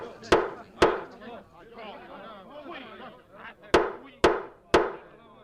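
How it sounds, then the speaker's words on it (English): A mayor bangs a gavel on a table with five loud, sharp wooden knocks, a pair at the start and three more near the end, over a room full of chattering voices. "The mayor bangs his gavel."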